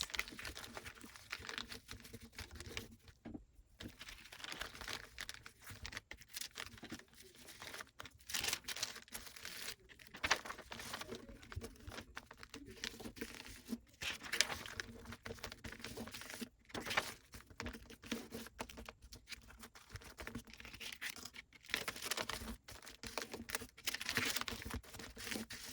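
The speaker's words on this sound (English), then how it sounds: "fold the pages" Paper pages of a handmade collector's book being folded, giving a steady run of crisp crinkling and rustling with frequent short crackles for about 26 seconds, close and fairly quiet, with no voices.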